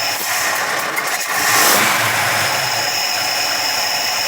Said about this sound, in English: Just rev it a bit.